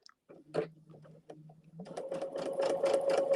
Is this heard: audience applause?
no